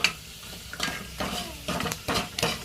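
Crab frying in a pan with salt and masala, a close sizzle broken by repeated scraping stirs of a utensil against the pan.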